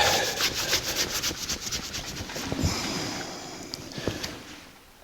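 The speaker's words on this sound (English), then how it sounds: "First thing we want to do is clean this rail so that we can stick masking tape to it" Silicone being scrubbed off the engine rail of a 1984 Jeep CJ7 during restoration, a rapid rhythmic rubbing and scraping close by that slows and fades toward the end, with a couple of light knocks.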